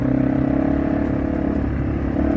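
A Yamaha TW200 motorcycle ridden hard off-road through its gears gives a steady, close, loud engine drone with a constant rumbling pitch, alone without voices.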